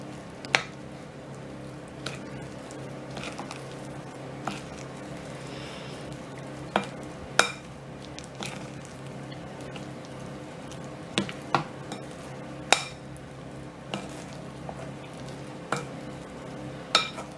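A spoon stirs birthday cake batter in a bowl with soft, steady squishing, punctuated by a dozen or so sharp clinks against the bowl's side.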